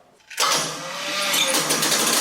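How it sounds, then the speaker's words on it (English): A 1967 Chevy C10 stepside barn-find engine with a noisy swap-meet motor cranks over on the starter, starting abruptly after a brief quiet and holding a loud, steady, close whirring churn. "turning the engine over with the starter now."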